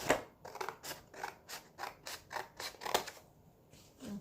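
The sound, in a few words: scissors cutting the side off a cardboard box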